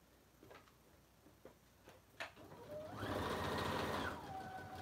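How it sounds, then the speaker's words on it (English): A sewing machine sews a small piece of pink fabric for a bag: a few soft clicks and handling taps, then a short, close burst of steady motor whirring that stops abruptly. "So I'll go ahead and sew that part there that I missed."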